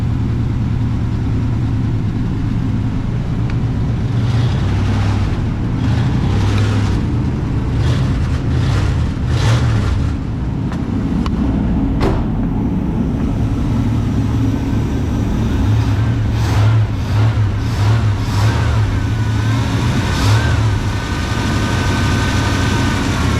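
A 1966 Pontiac Grand Prix V8 engine with a carburetor vacuum leak rumbles and revs repeatedly, rising and falling in short bursts over a low idle, heard close up without speech.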